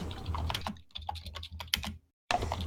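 Quick clicking keystrokes on a computer keyboard come in close, uneven bursts during a tabletop role-playing game session, with a short silent pause before the typing resumes.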